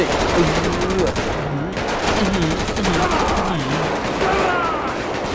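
Rapid automatic gunfire in the video game GTA V, loud and continuous bursts throughout, with a voice talking and exclaiming over the shooting.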